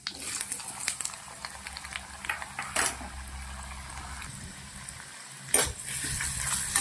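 Potatoes frying in hot groundnut oil with cumin for sabudana khichdi, a soft steady sizzle with scattered spoon scrapes and stirring clatter close by.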